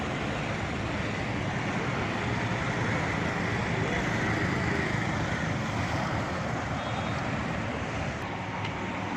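A car rolls along a road on a test drive after its jammed, overheating wheels were repaired, giving a steady broadband road and tyre rumble with engine noise, close and continuous with no pauses.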